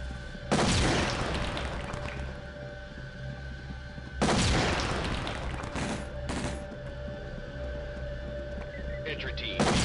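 Flashbang detonations and gunfire in the tactical shooter SWAT 4, with two loud broadband bangs a few seconds apart and a shorter burst of shots between them, set against a constant steady game hum.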